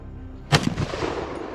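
FX Air Guns Impact air rifle firing a 40-grain Javelin pellet: one sharp, close crack followed by a brief rattling decay.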